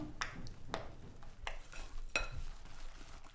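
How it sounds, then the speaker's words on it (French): Spoon stirring eggs, oats, cinnamon and nutmeg into carrot-orange muffin batter in a bowl, several irregular scraping clinks against the dish, quiet and close. "Je mélange l'ensemble."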